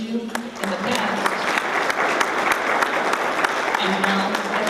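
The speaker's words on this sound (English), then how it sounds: "let's give another round of applause to all of those people" An audience at a chamber of commerce award ceremony applauding, a dense steady burst of clapping from a large crowd indoors, with a voice briefly heard at the start and end.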